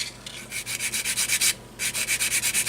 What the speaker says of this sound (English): sanding it back until we get back to the point